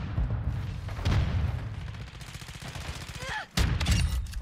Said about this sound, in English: Stun grenade up.